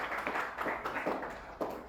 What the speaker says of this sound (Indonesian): Tepuk tangan untuk dua kelompok.